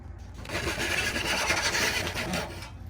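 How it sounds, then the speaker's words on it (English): A Dozuki Japanese pull saw cuts through wood with a steady, continuous rasping stroke, close and fairly loud throughout. "So I'm going to use my trusty Dozuki."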